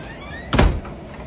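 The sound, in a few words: door opening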